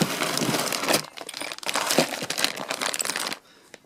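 The original plastic bag from a vintage Hunter ceiling fan box crinkles and rustles up close in several bursts, then stops abruptly near the end.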